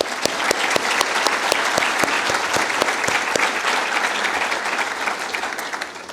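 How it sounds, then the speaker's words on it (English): An audience at an academic program claps loudly in sustained applause, with crisp individual claps standing out from the dense wash and tapering slightly toward the end. "Please welcome them with a round of applause."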